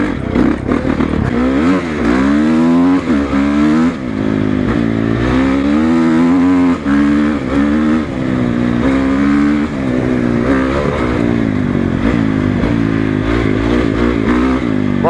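Honda CRF450 enduro motorcycles ride along trails, engines revving and shifting up and down in pitch as the bikes accelerate and ease off, loud and close throughout with occasional clattering.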